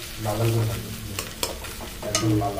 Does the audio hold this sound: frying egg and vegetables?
yes